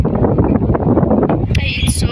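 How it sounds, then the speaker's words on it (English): Strong outdoor wind buffets the microphone in a steady, rumbling roar through the whole stretch, with a brief hissing gust near the end. "It's so windy."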